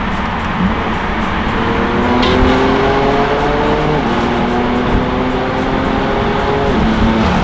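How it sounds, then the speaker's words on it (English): A BMW M3 on its stock exhaust accelerates hard, giving a steady, muted engine drone from inside the car. The tone climbs slowly under heavy road and cabin noise, and no one speaks. "See, you can barely hear the exhaust when I do some pulls."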